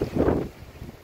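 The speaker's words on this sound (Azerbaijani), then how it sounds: "İndilər külək, tək-tək yağış damcıları düşür." Wind gusting outdoors on an April afternoon with scattered raindrops, a brief rumbling buffet that is strongest at first and then eases to a lower, steady rush.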